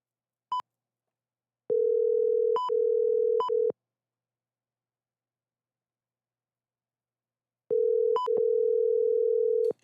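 Telephone tones from an incoming call: short high beeps alternating with long steady tones, clean and loud, repeating after a pause of silence.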